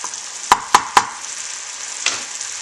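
Warm bacon dressing sizzles and fries steadily in a pan, a constant hiss broken by three sharp clicks early on and a soft clatter near the end.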